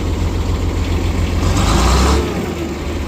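A truck engine fires up and idles on a cold, foggy day after being plugged in, a loud, close rumble that swells briefly midway then settles back to a steady idle, with no talking.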